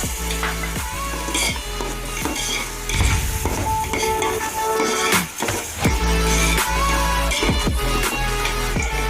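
Tomato, coriander, mint and green chili paste sautés in hot oil for fish biryani, sizzling loudly and steadily while a spoon scrapes and clinks against the pan in repeated stirring strokes.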